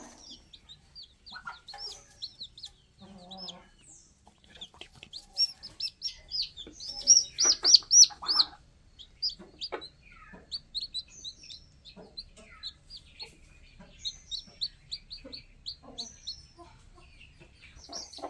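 A brooding hen clucks while five or six newly hatched chicks peep in quick, high, repeated chirps, close by and fairly soft, continuing throughout.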